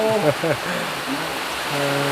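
Heavy rain pours down outside a home, a dense continuous hiss filling the background while voices speak briefly over it.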